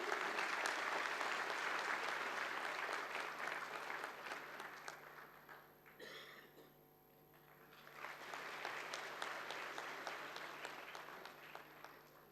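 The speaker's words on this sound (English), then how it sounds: "A huge round of applause, everyone." An audience at an international academic conference at the University of Delhi claps steadily, fading to near quiet midway before a second swell of applause builds and slowly thins out.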